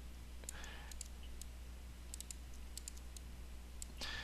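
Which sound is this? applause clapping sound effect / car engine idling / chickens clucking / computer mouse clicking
computer mouse clicking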